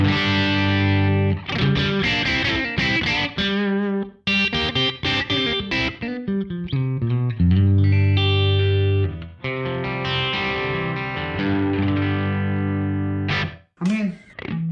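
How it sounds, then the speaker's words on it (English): Electric guitar through a Universal Audio Dream 65 reverb pedal, set for a pushed Fender amp tone with grit: a sustained, overdriven melodic passage with ringing notes and chords, loud and continuous, with short breaks near the end. "this is probably more of like a pushed Fender sound"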